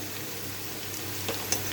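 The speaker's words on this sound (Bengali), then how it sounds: "সবজিগুলো হাফ ভাজা হয়ে গেছে, এখন একটু হলুদ দিয়ে দিই।" Half-fried vegetables sizzle softly in a pan after a pinch of turmeric goes in, a faint steady hiss with a couple of light stirring scrapes near the end; no speech.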